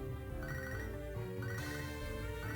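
A telephone rings in the handheld game Pokémon SoulSilver, a steady electronic ring tone layered over the game's continuous background music, with no talk.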